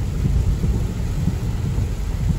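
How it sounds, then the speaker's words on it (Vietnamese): Heavy rain falls outside in a continuous, loud wash of noise with a deep rumbling undertone, steady throughout with no talking. "Ngoài trời mưa quá rồi đấy."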